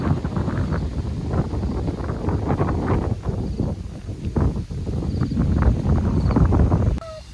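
Strong gusty wind buffets a Naturehike Village 13 camping tent, a loud, continuous roaring rush with rustling and flapping surges close to the microphone, no talking, ending abruptly.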